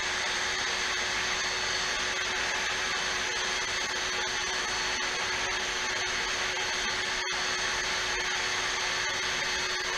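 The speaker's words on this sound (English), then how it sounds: "Okay, take 2. Heating the putty knife." A heat gun runs continuously while heating a putty knife for a plastic kayak repair, a loud steady blowing roar with a faint hum, broken once by a very brief dropout.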